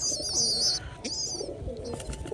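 A tame pigeon, of the Rajshahi gribaz breed, calls nearby with a brief cooing sound, followed by light shuffling and soft background noise.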